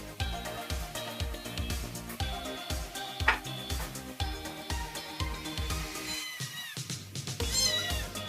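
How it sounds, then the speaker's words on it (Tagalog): A cat meows repeatedly and insistently, close by, over a steady ticking rhythm in the background, with a higher, drawn-out meow near the end. "Ayan, panay na ang meow-meow niya."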